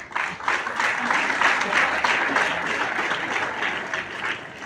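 A roomful of school students bursts into warm, dense applause after a correct answer, the clapping holding loud and steady for a few seconds before easing.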